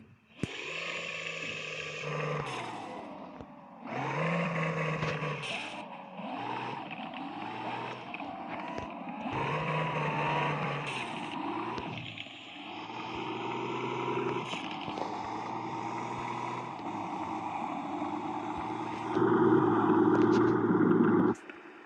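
A car engine revs hard in repeated rising bursts and then holds a sustained high roar, loud and close with no speech over it.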